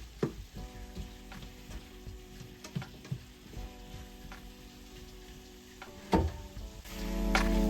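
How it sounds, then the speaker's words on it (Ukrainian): Vegetables sizzle and fry in a pan for shakshuka, a steady crackling hiss close up with occasional clinks and scrapes of stirring, louder toward the end. "поки смажаться наші овочі"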